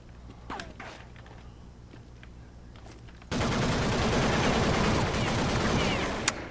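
Rapid gunfire from a Roblox Jailbreak shootout breaks in abruptly partway through, a loud, dense stream of automatic shots that continues to the end after a quieter stretch of faint game noise.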